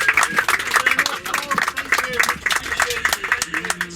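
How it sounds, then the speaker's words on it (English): Coach passengers on a Liverpool tour clap for their driver inside the vehicle, a dense patter of close hand claps lasting throughout, mixed with voices talking over it. "Round of applause for Ross."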